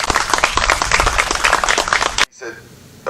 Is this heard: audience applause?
yes